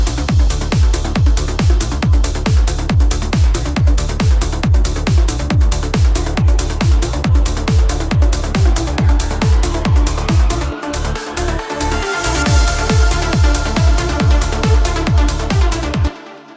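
A full uplifting trance track plays in Cubase, with a pounding four-on-the-floor kick, driving bass and bright synths, a short drum break near the end, then a rising sweep before it stops.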